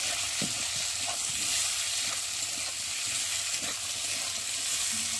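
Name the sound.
potatoes frying in a pan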